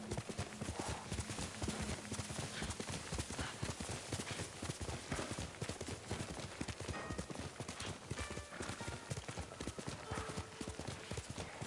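Horse hooves clip-clopping in a steady, continuous galloping rhythm as a rider travels on horseback in Ghost of Tsushima, with occasional faint whinnies and a voice talking over the top.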